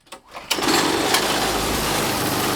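A small garden engine fires on the first pull and keeps running at a fast, overly high idle, a loud, buzzing whine close by that holds steady.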